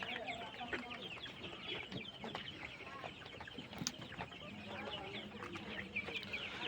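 A flock of 27-day-old colour bird broiler chickens on a poultry farm clucks steadily and busily, many birds overlapping in a continuous, fairly quiet chorus with occasional louder calls.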